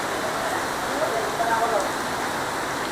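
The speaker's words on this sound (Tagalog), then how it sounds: "Ang lakas ng ulan, oh." Heavy rain pouring at a covered tennis court in San Ildefonso, Bulacan, a dense steady hiss of downpour that fills the whole moment without pause.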